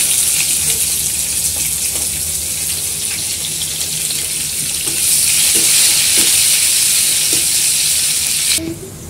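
Sliced onion hits hot oil already crackling with bay leaves, a dried red chilli, cinnamon, cloves, cardamom and whole cumin, giving a steady loud sizzle with scattered stirring clicks, swelling louder midway and ending with a sharp clatter.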